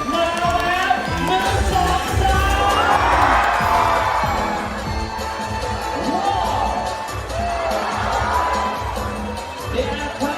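A large crowd at Safari World cheers and shouts continuously, swelling in loud waves of whoops and clapping that echo through a big hall.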